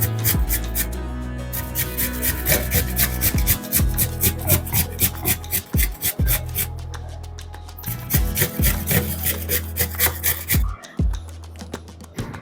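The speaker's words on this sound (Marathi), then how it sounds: "बटाटे आपले किसून झालेले आहेत." Unpeeled, washed potatoes being grated by hand for fasting thalipeeth, loud close rhythmic rasping strokes in quick repeated bursts with two short pauses.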